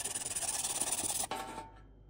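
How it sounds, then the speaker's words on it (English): Quick rhythmic rasping of fine sandpaper rubbing back and forth on the small hard contacts of an automatic transmission inhibitor switch, close and quiet, then a brief clack and silence. "I gave it a light sanding with fine sanding paper"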